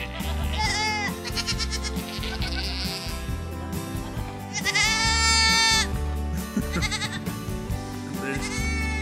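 Goats at a farm near Big Bear bleat loudly and repeatedly, their wavering calls overlapping up close with some livestock shuffling in the background.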